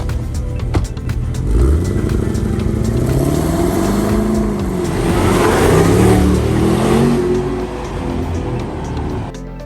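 Supercharged 2022 Land Rover Defender V8 of 500+ bhp accelerating from inside the cabin, a deep loud engine roar rising in pitch through successive gears with a whining supercharger note, steady and close throughout.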